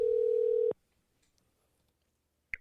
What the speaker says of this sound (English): So on that note, let's start by giving Matt a call.